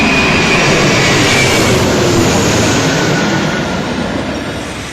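The giant Stratolaunch aircraft takes off on its first flight with a loud, sustained broadband engine roar that fades slightly toward the end.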